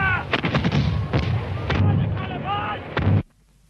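Rebel cannon open fire in a battle, a rapid series of heavy booming blasts one after another, loud and close, with rumbling between shots before an abrupt stop.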